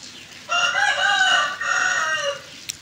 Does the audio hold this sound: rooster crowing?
yes